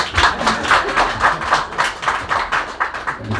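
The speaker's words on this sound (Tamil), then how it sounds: "கைத்தட்டலாம் இந்த இடத்துல" Audience clapping at a Tamil film stage event, a steady run of rhythmic claps that rises and falls over a few seconds, fairly loud and close, with no voices in it.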